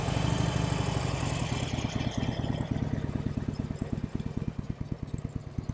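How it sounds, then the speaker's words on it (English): A 2022 Harley-Davidson Iron 883 on its stock exhaust idles nearby with a fairly quiet, steady low-pitched throb that settles into an even, loping pulse. "we'll go ahead and let you hear the stock exhaust really quick."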